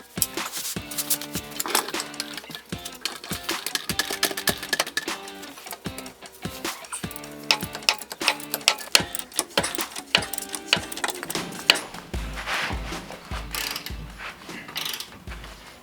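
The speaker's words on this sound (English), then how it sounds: "So with my ratcheting socket on there, just fits inside of this pry bar, and we'll do it like that." A ratcheting socket set inside a pry bar turns a leaf spring bolt on a 1992 Jeep Wrangler YJ, giving close, irregular bursts of sharp clicking with short pauses between strokes.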